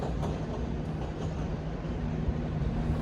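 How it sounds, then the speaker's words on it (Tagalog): Train rolling into a station in the United States on a trip toward New York, a steady low rumble of rail cars with a constant hum and faint clatter, continuous and fairly close, with no talking. "sasakay naman tayo ng tren papuntang New York"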